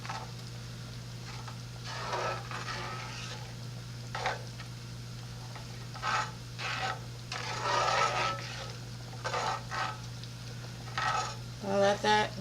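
A spoon stirs shredded Parmesan cheese into a sauce in a pan, giving intermittent scraping and swishing strokes over a low steady hum, with a soft sizzle and a few clinks of the pan.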